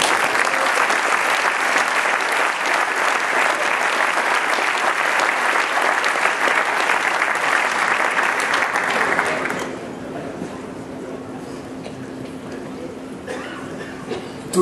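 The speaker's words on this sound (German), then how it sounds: "Sie haben bestimmt auch einen ganz herzlichen Applaus für ihn" A large audience at a company's 125th anniversary celebration applauds warmly, a loud, dense burst of clapping lasting about ten seconds before it stops abruptly, leaving a quiet hall with low murmuring.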